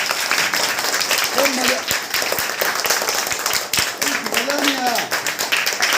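A school audience at a happiness festival claps for itself, a dense continuous round of applause heard close and loud, with a voice speaking over it.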